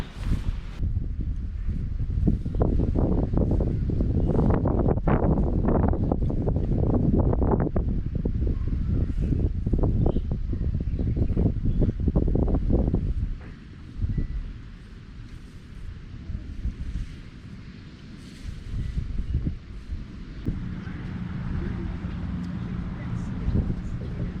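Gusty wind batters the microphone in a front yard with dense, rumbling low buffeting for much of the stretch. It eases partway through, then picks up again, and voices talk now and then.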